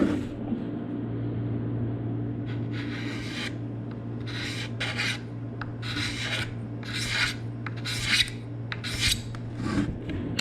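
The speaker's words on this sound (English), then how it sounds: "But all you do is scrape" Dried glue being scraped off a surface to smooth it, a series of close, rasping strokes in an uneven rhythm over a steady low background hum, with no talk.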